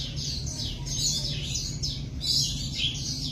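A golden weaver sings in the McCormick Bird House at Lincoln Park Zoo, with a run of bright, repeated chirps and twittering phrases over a steady low hum of room noise.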